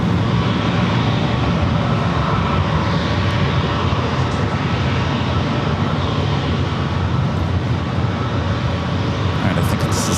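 An ATR turboprop, a FedEx feeder flight from Tijuana, arrives at San Diego airport with a loud, continuous engine roar that stays steady throughout.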